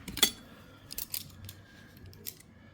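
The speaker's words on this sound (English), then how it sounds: "cut it with a scissors or a knife," A sharp metallic scissor snip followed by a few lighter clicks and cuts through gasket material, close and fairly quiet, with no voices.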